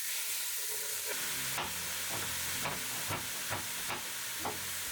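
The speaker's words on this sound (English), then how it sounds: "I like to use a potato masher to mash my ground meats" Ground pork sizzles in a hot pan while a potato masher strikes it in a steady series of soft, dull thumps, roughly one or two per second, over a constant frying hiss.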